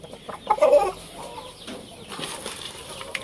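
Shamo chickens cluck softly near the microphone while pecking at and eating eggshells, with a brief louder cluck early on over a quiet farmyard background.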